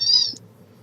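A dog playing with a squeaky toy makes a single high, bird-like squeal up close, followed by faint low background noise.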